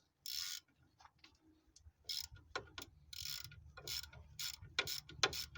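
Ratchet wrench working loose the 15 mm nut on a Ford Focus front tie rod end, giving several close bursts of rapid clicking separated by short pauses, with no talk.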